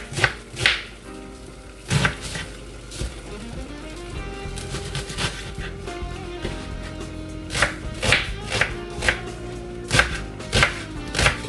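Knife chopping ingredients for Jamaican oxtail on a cutting board, close and fairly loud, in irregular bursts of quick strikes with short pauses between them.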